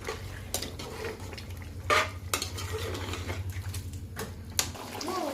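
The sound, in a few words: mutton biryani masala being stir-fried in a pot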